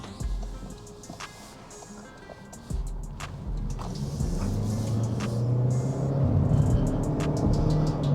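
A 2023 Toyota Corolla Cross Atmos hybrid pulls away and accelerates around a corner in traffic, its engine swelling from a low cabin rumble to a louder, rising drone, with scattered clicks along the way.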